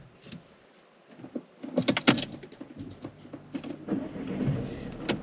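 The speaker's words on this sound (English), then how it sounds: "So when you're ready, let's start the car." A manual car is started: keys jangle, then the engine cranks and catches, settling into a steady idle close by inside the car.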